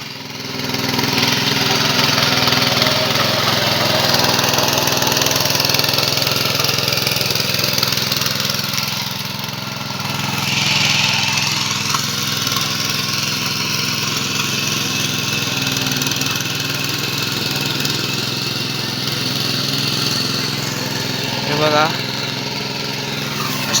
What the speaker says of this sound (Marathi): अशा प्रकारे इकडे नांगरणी केली जाते ट्रॅक्टरने आधुनिक पद्धतीने